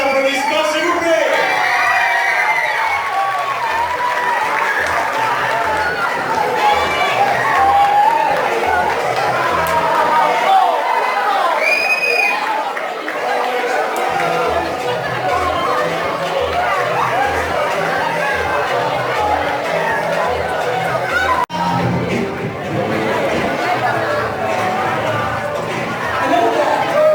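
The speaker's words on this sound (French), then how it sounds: "Est-ce que des applaudissements, s'il vous plaît?" A festive audience at a Moroccan youth event in Tangier cheers and whoops over a loud continuous crowd roar, with shouts and chatter mixed in and a rhythmic low beat running underneath for much of the stretch.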